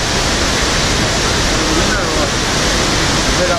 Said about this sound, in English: Up in there, the waterfall.